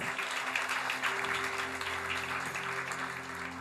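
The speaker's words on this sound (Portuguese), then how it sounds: "E se você puder, aplauda ao Senhor mais uma vez." In a church service, the congregation applauds with a thick, steady wash of clapping that fills the hall. A low sustained tone from instruments or a sound system hums underneath throughout.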